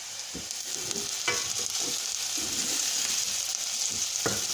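Onions and fine grains of garlic fry in a pan as they are stirred, giving a continuous close sizzle broken by soft scraping strokes of the utensil, with no voices.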